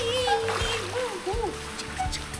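People splash and slosh water in a swimming pool, close and lively, with children's and adults' voices chattering over the splashing.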